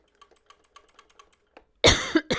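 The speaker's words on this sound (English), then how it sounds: "Excuse me. Cough into the microphone." Soft keyboard-like clicks tick along, then a single loud, close cough bursts out near the end.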